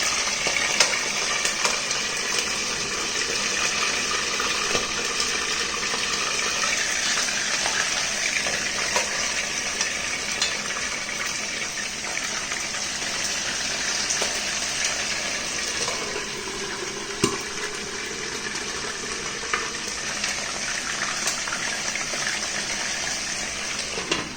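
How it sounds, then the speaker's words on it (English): Goat meat frying in a pan on low heat produces a steady, continuous sizzle with small crackles and pops, moderately loud and with no talking. "You're frying at low heat."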